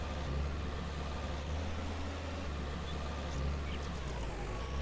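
The FV tractor's engine runs steadily in Farmer's Dynasty, a constant low droning hum at moderate volume with no break.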